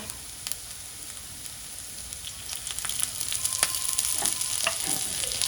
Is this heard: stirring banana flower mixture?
yes